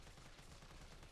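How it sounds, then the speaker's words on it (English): Frantic automatic gunfire in the zombie horror game Directive 8020, a dense continuous burst of shots with no pauses, loud and filling the whole moment. "Panic shooting."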